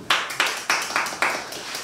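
A few people clap by themselves in a loose rhythm, giving about six short, sharp bursts spaced evenly a moment apart at close range.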